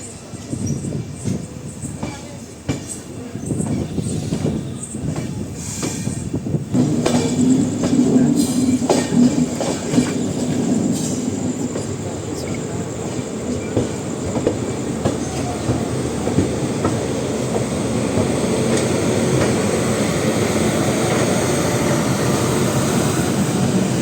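The Cuddalore–Mysore Express runs on after leaving Karur Junction, a steady loud rumble of wheels and carriage noise with rhythmic clatter building and holding throughout, close and continuous.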